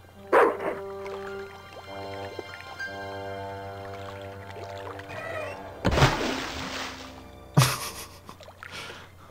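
A dog in the Broken Sword 2 Remastered adventure game yips and barks as it is tossed into water, with sharp splash bursts cutting through a steady tonal music bed.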